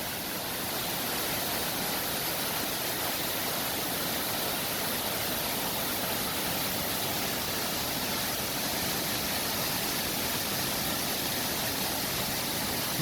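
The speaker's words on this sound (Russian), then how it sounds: "Небольшой водопад" Small waterfall on the Karen river beside a bamboo grove, a steady broadband rush of falling water that stays constant and fairly close throughout, with no voices.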